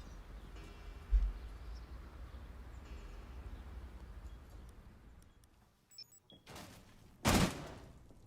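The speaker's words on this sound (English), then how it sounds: "Jumper taking shots from Monster" Gunfire in a competitive shooter video game match: muffled shots pop in the background, then a few sharp, louder cracks ring out near the end.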